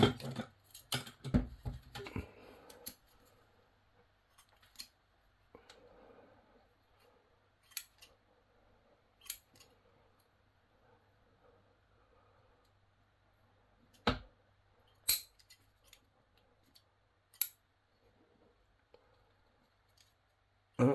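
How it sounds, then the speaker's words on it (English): Scissors snip straggly roots off an English oak bonsai during a February root prune and repot, a cluster of quick cuts at first, then isolated crisp snips spaced by quiet pauses. "Got a few straggly bits that I'll cut off now."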